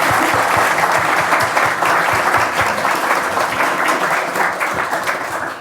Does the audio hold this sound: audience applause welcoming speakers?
yes